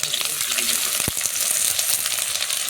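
Cumin seeds hit hot oil in a Bangladeshi home kitchen, giving a steady, close hiss and crackle of frying with a couple of small knocks from the pan.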